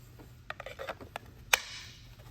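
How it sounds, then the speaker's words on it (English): A knife pushed into its sheath until the retention snaps, with a few soft rubbing and clicking sounds followed by one sharp, distinct click, close and quiet, with no talking. "really good positive click there and a very natural thumb press"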